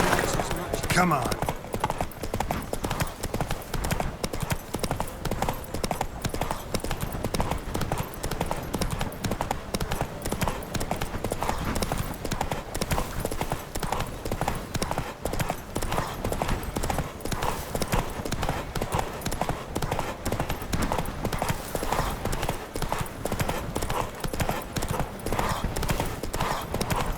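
Horses gallop in a race in The Witcher 3 game, a rapid continuous drumming of hooves throughout, with a neigh early on and voices shouting over the pounding rhythm.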